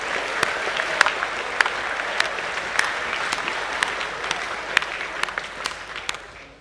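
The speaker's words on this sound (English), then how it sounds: "Let's give them all a round of applause" Applause at a Year 10–12 academic school assembly in a hall, moderately loud and sustained, with sharp individual claps standing out against the steady wash before it fades at the end.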